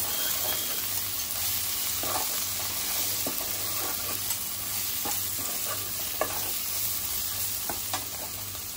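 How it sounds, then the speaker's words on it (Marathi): Prawn masala is stirred in a hot pan after salt goes in: a continuous close sizzle with repeated soft scraping strokes of a spoon. "चवीनुसार मीठ घालते. मिक्स करते."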